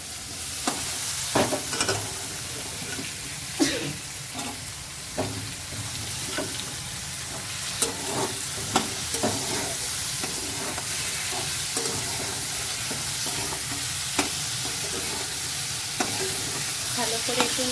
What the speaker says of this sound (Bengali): ভালো করে একটু নেড়ে চেড়ে ভেজে দেবো।